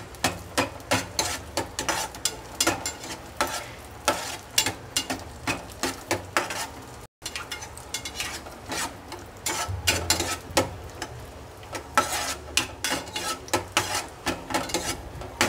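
Cashews and raisins frying in a pan for pumpkin halwa, a steady close sizzle and scrape with frequent stirring clatter, continuing alone with a brief break partway through.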